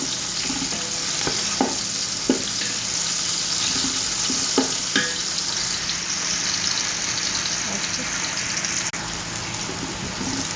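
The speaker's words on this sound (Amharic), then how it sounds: "በዚህ መልኩ ያለ ማቋረጥ እንዳይቃጠልብኝ እንደዚህ ያማስላለሁ።" Fish kabsa is stirred without pause in a pot over a steady, loud sizzle, with a spoon scraping and knocking against the pot at irregular moments.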